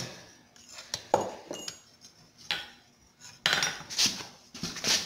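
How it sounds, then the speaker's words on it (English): Steel chisel rocked back and forth in forged copper, giving irregular metallic clinks and scraping taps, some faint and some sharp and ringing, spaced unevenly and growing busier toward the end. "rock the chisel back and forth here"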